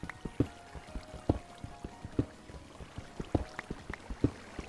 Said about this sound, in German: Bei mir höre ich gerade Wasser.